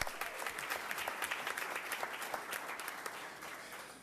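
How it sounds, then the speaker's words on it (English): Scattered but sustained applause from a board-meeting audience honoring school principals, with individual claps standing out against a softer crowd of hands that tapers slightly at the end. "give them a round of applause"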